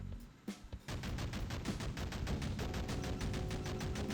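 Rapid, continuous gunfire from a warship in the Modern Warships naval combat game, dense repeated shots that start after a brief pause and run loud and steady to the end, with no talking.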